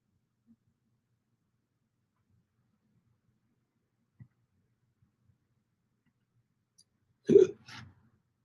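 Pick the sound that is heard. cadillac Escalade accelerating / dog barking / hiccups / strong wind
hiccups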